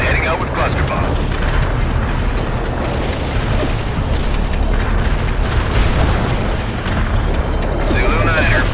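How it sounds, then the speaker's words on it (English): Artillery barrage and cluster bomb explosions in World in Conflict roll on as a dense, loud, continuous rumble of overlapping booms and bursts, with battlefield noise throughout and no clear pause. "Artillery barrage hit for full effect"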